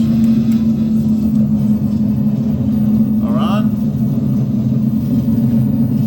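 Light airplane cabin just after touchdown, a steady loud engine drone and rumble as reverse thrust is applied, with a brief squeal partway through.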